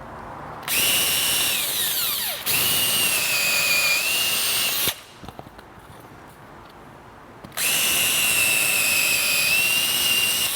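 A power drill bores holes in the topcase mounting plate of a Piaggio Liberty scooter, whining loudly in two long high-pitched bursts separated by a quiet pause with small clicks.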